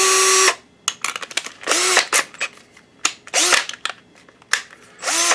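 A power screwdriver backing screws out of a Dell 5100MP DLP projector during a repair, with repeated short loud whirring bursts and quiet gaps between them.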